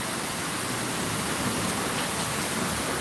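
A steady downpour of heavy rain in a village street, an even, dense hiss with no pauses or voices.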